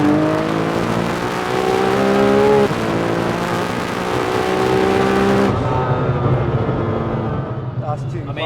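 A 1900hp Nissan GTR on a street drive roars as it accelerates hard, engine pitch sweeping upward through gears with a shift break, loud and close inside the car, then settling to a lower rumble.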